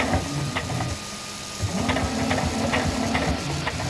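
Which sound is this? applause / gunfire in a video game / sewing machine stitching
sewing machine stitching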